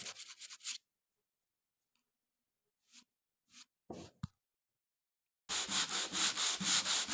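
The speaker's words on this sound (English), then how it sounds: "just sanding those little spots away" Sanding of a stripped wooden countertop, in short scratchy bursts: a steady rub at the start, a few brief strokes in the middle, then a long run of rhythmic back-and-forth strokes at the end, close and alone.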